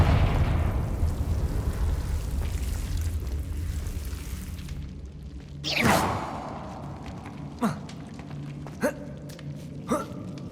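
A Confringo fire spell bursts with a loud whooshing boom in Hogwarts Legacy, set inside a castle library, and is followed by several sharper, shorter magical cracks spaced a second or so apart.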